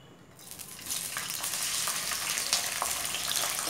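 Onion dropped into hot oil for mutton curry bursts into sizzling; a quiet start swells within a second into a loud, sustained crackling fry with a few pops.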